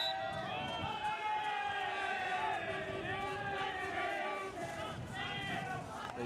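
A home crowd cheers and shouts at a men's field hockey match between East Grinstead and Old Georgians, a steady wash of massed voices with rising calls throughout.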